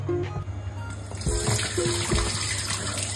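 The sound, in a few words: water draining from cut potatoes for French fries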